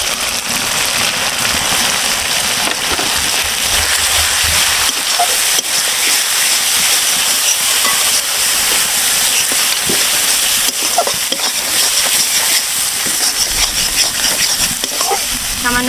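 Ground cumin, black pepper and coriander powder hit a hot pan for a Bengali vetki fish and tomato curry, giving a steady, dense, loud sizzle that crackles without a break.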